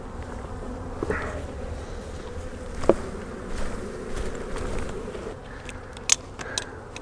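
Honeybees buzzing in the open sun after being shaken off a hive frame, a constant dense drone of many insects close around, with a few sharp louder passes of single bees nearby.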